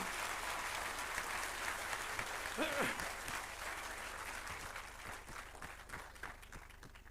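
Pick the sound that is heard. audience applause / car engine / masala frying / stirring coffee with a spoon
audience applause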